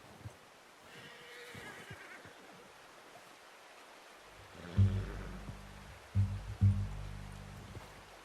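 Horse in Red Dead Redemption 2 gives a loud, close whinny and snorts, followed by a second neigh, over quiet outdoor ambience with a faint stream.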